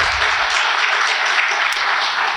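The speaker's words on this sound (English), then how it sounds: "I really firstly would like everybody just to give her a round of applause" Audience applause at a circular energy event opening, a dense steady wash of hand claps lasting a couple of seconds with a low rumble at the start.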